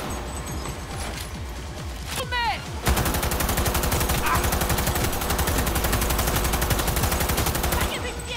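Rapid automatic gunfire rattles nonstop in a Cyberpunk 2077 firefight against the Voodoo Boys, loud and dense after a brief lead-in of scattered shots and mechanical clicks, with a continuous drone behind it.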